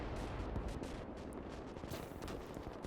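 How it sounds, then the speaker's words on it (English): Small-arms gunfire crackles steadily in the distance during a large tank, infantry and air-support battle in the video game Gates of Hell, a faint, continuous rattle of many overlapping shots. "Hear all those like small arms fire as well."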